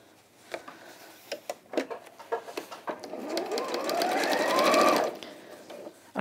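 A domestic sewing machine stitches two pinafore dress pieces together, right sides facing, starting in short stop-start bursts of needle clatter and then running in one steady, rising whir before stopping.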